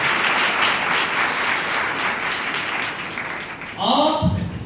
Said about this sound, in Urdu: ہم بشپ صاحب کی اس بہت بڑی کاوش کے لیے بھرپور تالیوں میں خدا کا شکریہ ادا کرتے